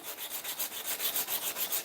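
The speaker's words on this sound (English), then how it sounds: "let's get back to hand sanding" Hand sanding a knife: steady back-and-forth rubbing strokes in a quick, even rhythm, close and fairly loud with no voices.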